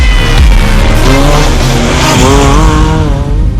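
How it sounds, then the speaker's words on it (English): A lightweight SSV side-by-side racing vehicle, Yamaha or Polaris, at the 2017 Dakar rally roars loudly up close, its engine revving and rising and falling in pitch with some tire skid. "We're in a vehicle that's a real racing car, with all the ingredients of a racing car, except that it's lighter."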